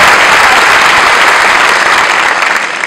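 Steady applause from an audience at a jazz talk-and-show event, dense clapping that holds at an even level and begins to taper off at the very end.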